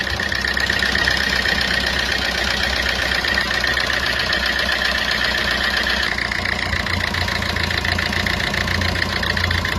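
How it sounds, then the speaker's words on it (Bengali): A Maruti Suzuki Swift Dzire engine idles steadily just after starting, a close, continuous mid-pitched rumble with slight knocking that shifts tone partway through, no voices. "ইঞ্জিন স্টার্ট হয়ে গেছে দেখুন।"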